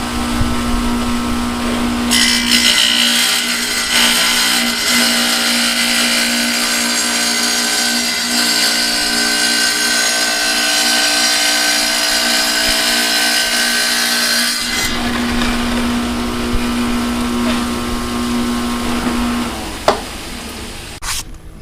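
A Ridgid 7-inch table-top wet tile saw cuts tile with a loud steady motor whine. The pitch and load shift partway through as the cut changes, then the saw runs on more quietly.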